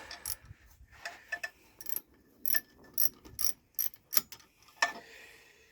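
Ratchet clicking in quick bursts while undoing bolts on a 31ci single-cylinder Briggs engine being race-prepped, several short rattling spurts close by with pauses between, no talking.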